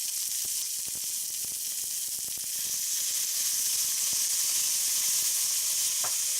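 Vegetables sizzling in a stir-fry pan before shrimp and soy sauce go in, a bright constant hiss with faint clicks of utensils, close and steady.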